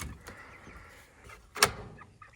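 A chicken coop door shuts with a sharp knock, followed by a smaller knock at the end. Both sounds are close and come over quiet outdoor background.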